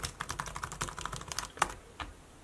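Rapid, irregular clicking of keys being typed on a Dell Inspiron Mini 10 netbook keyboard, close and fairly quiet, with a few slightly louder taps.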